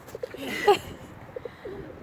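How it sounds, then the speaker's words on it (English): Pigeons cooing close by in a public outdoor spot, a few soft repeated coos with faint background noise and no talk. "there's a lot of pigeons"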